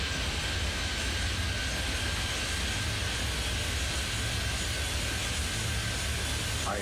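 A jet airliner takes off in the airport game Airport Madness 3D, its engines producing a steady, loud, broadband roar that holds constant and unbroken throughout, with no voices over it.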